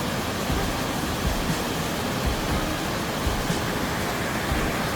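Hongryong Falls roars with a dense, unbroken wash of falling water, loud and steady throughout with no voices.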